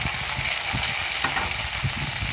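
Onions and chopped tomato sizzle and fry in a pan for a Telugu amaranth-leaf stew, a steady close crackle with soft stirring scrapes and no voices.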